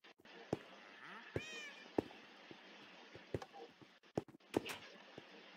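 A video-game cat gives one short, rising meow amid sparse soft clicks and taps, with faint, quiet ambience and no speech.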